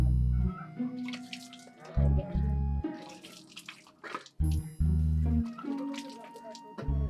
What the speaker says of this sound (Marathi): माझ्या हातावर पाणी घाल.